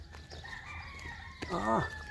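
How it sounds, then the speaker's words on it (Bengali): A rooster crows once, a clear rising and falling call from some distance, set over a quiet outdoor background in a town in Kuwait on Eid morning. "খুব ভালো লাগে মুরগের ডাকটা।"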